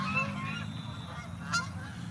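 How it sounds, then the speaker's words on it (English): Geese fly overhead and give a few faint, scattered honks against a steady low outdoor rumble. One brief, slightly louder honk stands out near the end. "Look at them birds flying."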